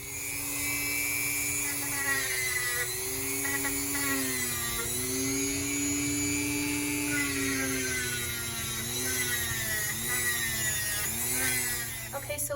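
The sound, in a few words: rotary drill filing a dog's toenails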